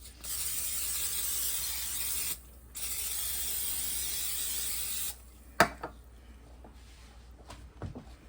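Cooking spray from an aerosol can misted onto an indoor grill before Cajun lemon pepper chicken and shrimp go on: two steady hissing bursts of a few seconds each, followed by faint clicks and handling noises.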